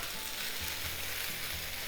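Chopped onion sizzles and fries in a hot pan where chicken has just browned, a steady close crackle with soft low bumps from the pan, no voices.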